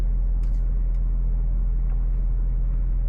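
A 2020 Audi S5 Coupe engine held against the brake for a launch, giving a steady low rumble with a couple of faint higher clicks, close and moderately loud.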